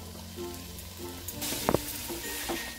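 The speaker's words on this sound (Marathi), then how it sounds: "आपण ह्या भाज्या आता त्या तेलामध्ये परतूया" Mixed vegetables such as cauliflower, peas, carrots and green beans hit hot oil in a pan for veg pulav, a soft steady sizzle with a brief clatter of stirring partway through.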